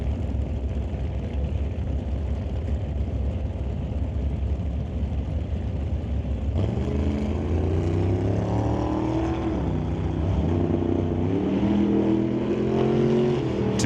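A Datsun pickup and the Nasty Fish Racing Corvette launch side by side on a drag strip at an evening racing event, a steady loud engine roar swelling into harsh revving and shifting engine notes in the second half.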